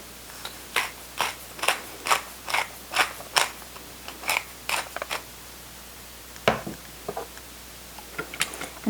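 Salt and pepper ground by hand over a bowl of raw scrambled egg mixture: a steady run of crisp, clicking grinder twists, close and fairly loud, pausing briefly before a few more turns.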